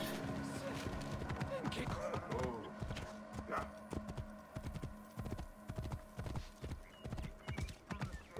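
A horse in the Assassin's Creed Origins video game gallops with rapid, rhythmic hoof clip-clops that grow steadier and more distinct, accompanied by a brief whinny and someone talking early on.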